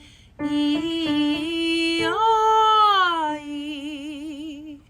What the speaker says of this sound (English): For this warm-up, we're going to be alternating between an E sound and a yaw sound.